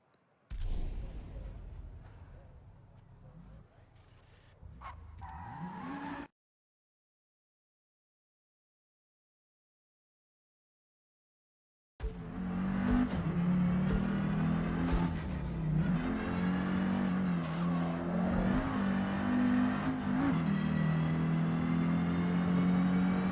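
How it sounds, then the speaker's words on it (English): A racing car in a video game revs and pulls hard, its intake and induction roar droning loud and close, cut by a stretch of silence before the engine note returns strong and sustained. "that intake, that air filter. The induction noise."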